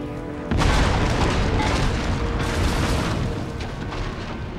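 Cannon fire booms in the Total War: Empire strategy game, a heavy deep blast that bursts in after a brief lull and rumbles on with dense overlapping thuds and crackle.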